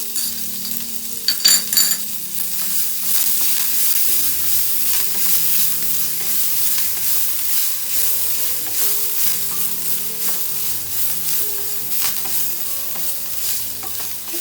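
Crushed fennel seed powder, ginger and garlic frying in a pan, giving a steady close sizzle with brief stirring clatter near the start.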